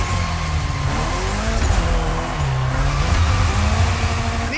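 Lancer Evo 6 drift car sliding around an airport course in The Crew Motorfest, its engine droning and revving steadily throughout with tire squeal over the top, loud and continuous with no voices.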